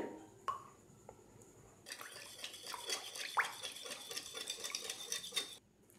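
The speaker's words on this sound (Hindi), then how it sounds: "हैंड विस्क की मदद से मिक्स करती जा रही हूँ।" A hand whisk clatters rapidly against a bowl mixing pancake batter, a busy scraping rattle that starts after a few soft clinks and runs steadily, close by.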